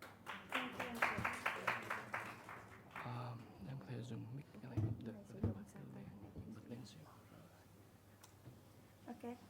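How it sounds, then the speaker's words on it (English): Audience at a conference on thermal decarbonization in Vietnam and Southeast Asia gives a short round of clapping that rises briefly at the start and fades, followed by murmuring and light room noise. "Please give a round of applause to Ms. Ruby."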